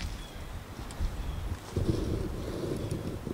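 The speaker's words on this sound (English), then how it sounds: "Man, it is windy. Very windy." Strong gusting wind outdoors at a farm with a new Massey Ferguson 6S.165 tractor, buffeting the microphone in low rumbling bursts, constant and fairly close.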